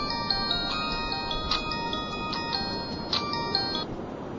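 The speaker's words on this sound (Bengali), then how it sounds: "ফোন আসছে" A mobile phone ringtone plays a steady, repeating electronic melody of bright tonal beeps at moderate volume over a low background hum, with no talking.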